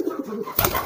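A market pigeon being trained as a homing bird gives a short coo, starting midway and fairly close, over a soft background murmur.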